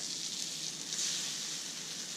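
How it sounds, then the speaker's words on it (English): Continuous bright sizzling of French toast frying in hot butter on a griddle, steady and close, with no talking. "Hear that sizzle? Sizzle, sizzle, sizzle."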